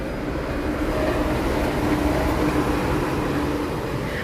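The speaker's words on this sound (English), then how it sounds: "see, monorail." Walt Disney World monorail train passing as a steady, loud low rumble and whir that holds evenly throughout, with no voices.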